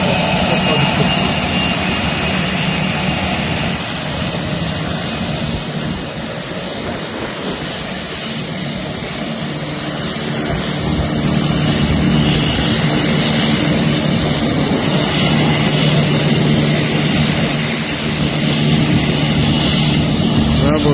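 Jet airliner engines roar steadily while taxiing out at Kruger International Airport, a loud, continuous broadband rumble and whine that swells and dips slightly over the whole stretch.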